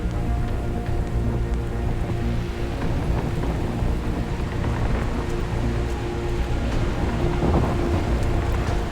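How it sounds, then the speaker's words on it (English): A severe thunderstorm pours heavy rain at a campsite in a dense, steady hiss, with low rumbling underneath and no voices. "We are under severe storm."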